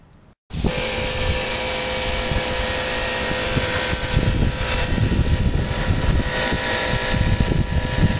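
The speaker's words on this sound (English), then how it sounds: "the wind is making it even harder than it normally would be" Wind blows steadily outdoors, a loud broadband roar buffeting the microphone after a brief quiet start, during the spray painting of a Yamaha FZR motorcycle's parts.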